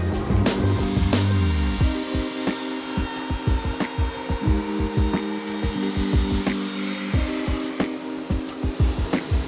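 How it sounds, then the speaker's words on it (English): A drill press bores a hole through wood with a steady motor hum, broken by a rapid series of sharp clicks and scraping knocks as the bit cuts and chips clear. "We've just set up on our drill press, drilling our hole through"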